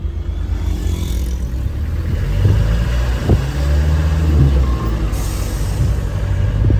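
A car accelerates steadily on a fast open road to overtake a truck, a continuous near engine and road roar with a low rumble that rises slightly mid-way, no voices.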